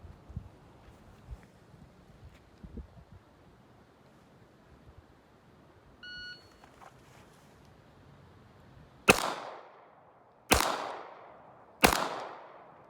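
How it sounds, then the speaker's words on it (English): Three sharp, loud Colt Cobra .38 Special revolver shots fired at 15 yards on an outdoor range, evenly spaced, each with a long echoing decay after a quiet stretch of faint background noise. "We're going to be shooting at 15 yards, 3 shots in 10 seconds,"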